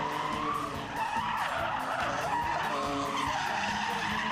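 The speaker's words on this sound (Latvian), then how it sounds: "Bremzējās un mazliet pa daudz sabremzējās, tikai tā knapi ar vienu riteni tiek līdz vērtējošai zonai." A drift car in a Street X class competition at a drift event in Jēkabpils brakes and slides, its tires skidding loudly and continuously with engine noise throughout.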